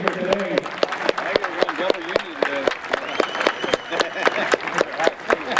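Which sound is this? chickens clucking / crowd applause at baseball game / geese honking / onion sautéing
crowd applause at baseball game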